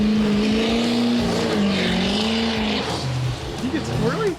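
A Duramax-swapped squarebody truck with the boost turned up spins its tires off a drag strip starting line. Loud, continuous engine roar and tire squeal fill the whole stretch, with voices mixed in underneath.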